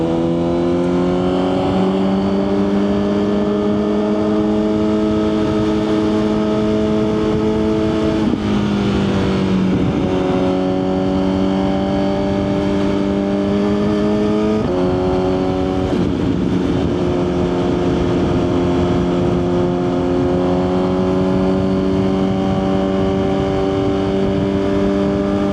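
Steady engine drone of a Suzuki GSX-R1000 sportbike cruising through traffic in heat, a continuous mid-level hum with a couple of brief shifts in pitch where the revs dip and climb again, no talking.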